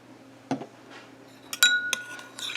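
Red colour stirred into melted melt-and-pour soap base in a container: a few bright clinks and taps of a utensil against glass, close and distinct over a low hum.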